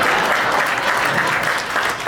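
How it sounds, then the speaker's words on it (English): An audience claps in dense, continuous applause, a brief, loud burst of many hands at once, with no voices clearly standing out. "Yeah, we can clap for that, I guess."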